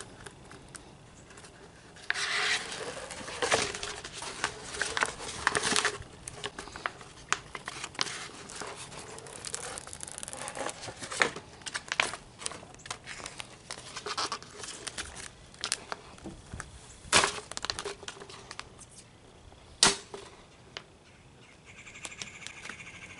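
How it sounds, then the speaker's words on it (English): Backing is peeled off a sheet of window tint film for a tail light, producing intermittent crinkling crackles and sharp plastic snaps over a quiet background, close by with no speech. "Remove the backer to the film."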